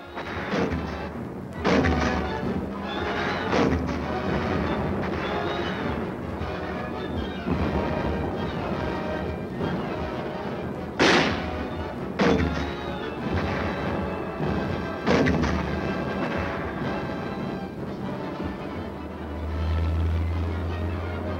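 An artillery gun crew fires in Korean War combat, heavy booms cracking out amid a dense, rumbling battle din. Several sharp blasts stand out over the continuous roar of the fighting.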